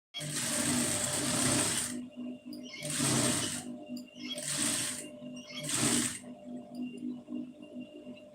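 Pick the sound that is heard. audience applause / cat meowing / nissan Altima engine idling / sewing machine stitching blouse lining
sewing machine stitching blouse lining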